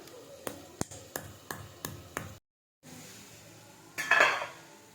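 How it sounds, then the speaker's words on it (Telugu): Cinnamon, cardamom and cloves pounded by hand, a run of sharp, evenly spaced thuds, then a brief pause and a louder scraping grind near the end, no talk. "కొంచెం చెక్క ఒకటి యాలక్కాయ వేసి దంచుతున్నా మెత్తగా దంచుకుందాం"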